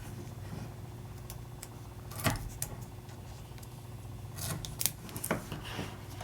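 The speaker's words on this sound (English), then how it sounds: "cut it with my scissors, real easy." Scissors snip through a strip of foam tape for card making, a few quiet close crunching cuts over a low steady room hum, with no talk.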